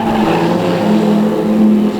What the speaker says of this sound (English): Tyres squeal from underneath John Mason.